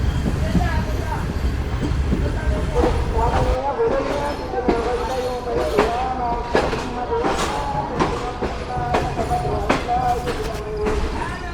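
Shalimar Express passenger train rolling on its tracks toward a station platform, a steady low rumble with rattling clicks, squeals and clanks throughout, voices talking over it inside the carriage.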